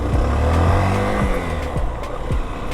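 Honda CB 125 F motorcycle accelerating hard in second gear, its engine note rising and falling through several quick revving sweeps, loud and close with no talk.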